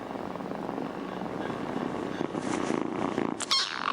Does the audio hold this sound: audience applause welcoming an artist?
no